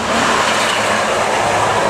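Medium tour bus passing on the Cipali toll road near KM 181 on a busy afternoon, a loud, steady broadband engine and road roar that stays close and constant throughout.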